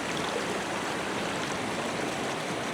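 A small stream rushes steadily over white water, a loud, continuous broadband wash of flowing water close by with no talking.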